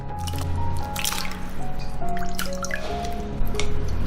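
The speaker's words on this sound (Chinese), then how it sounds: "我们再来洗200克金蚝干" Dried golden oysters, about 200 grams, being washed in water by hand, with close, steady dripping, sloshing and trickling throughout, no voices.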